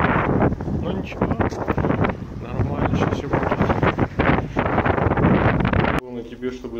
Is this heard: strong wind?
yes